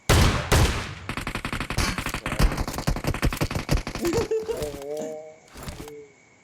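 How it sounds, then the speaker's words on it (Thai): Rapid bursts of video game gunfire in a shootout, loud and close, with rattling volleys and single shots before fading into quieter game sounds. "ซ้ายมีคนยิง"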